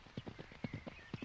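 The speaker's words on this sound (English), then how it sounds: "Well, Tolly, a horse is yours now." A horse's hooves clip-clopping at a steady walking pace, a quick run of soft, close knocks in an audio drama scene, with no voices over it.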